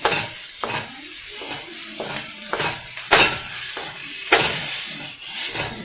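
Chorizo sausage sizzling in a pan while a utensil breaks it up, giving a steady hiss of frying with repeated soft scraping strokes and two sharper knocks of the spatula against the pan, close and fairly loud.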